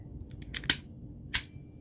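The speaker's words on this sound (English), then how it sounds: "let's snip this for fun" A cutting tool snips through a wire, giving a few faint clicks and then two sharp cuts, one near the middle of the pause and another shortly after, with nothing else heard.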